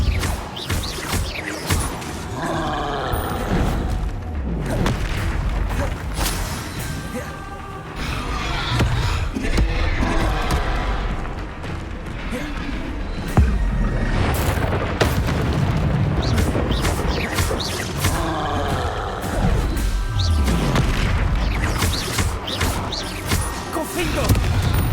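Repulso spell blasts in Hogwarts Legacy, heard as repeated heavy booms and crashing impacts over a dense, continuous layer of game sound, loud and close throughout.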